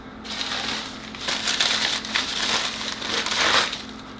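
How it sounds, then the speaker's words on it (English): A scrubber scours pots and pans with rough, crunchy strokes, several bursts in an uneven rhythm, close and fairly loud with no talk. "this is what I scour with the pots and pans and stuff to make them look beautiful"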